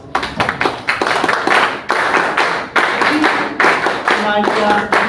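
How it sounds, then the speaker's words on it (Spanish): Loud, close hand clapping in uneven bursts, like a small crowd applauding as an audience welcomes a speaker at a lecture, with voices mixed in. "Recibamos con fuertes palmas"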